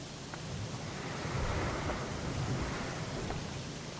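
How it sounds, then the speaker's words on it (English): Soft, steady wash of waves crashing in the PowerWash Simulator video game, a low continuous rushing surf, faint and ambient with no talk. "Soft sounds of waves crashing."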